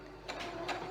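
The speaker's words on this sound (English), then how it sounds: "Just move the fabric out the way and just sew around that top section, 1/4 inch, and back stitch at either end." A sewing machine stitching fabric, a quiet mechanical whir with a soft rhythmic clatter that rises in two brief pulses over under a second.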